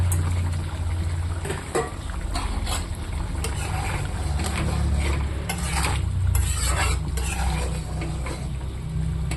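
Dried fish goes into a curry cooking in a pan, giving a continuous close sizzle with scraping, stirring noises running through it.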